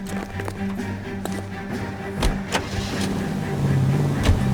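A 1940s car driven in L.A. Noire, its engine a low steady rumble with thumps and clunks, rising slightly as it pulls away, with game ambience around it.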